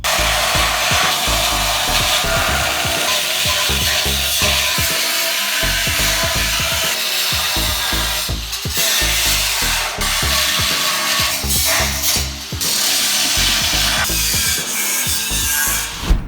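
A power saw cuts through the metal part of a Jeep Wrangler bumper, a loud, harsh buzzing grind with rapid repeated strokes and brief pauses, continuous throughout.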